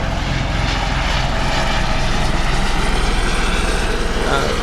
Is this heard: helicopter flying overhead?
yes